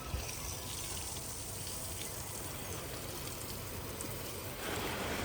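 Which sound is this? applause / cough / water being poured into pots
water being poured into pots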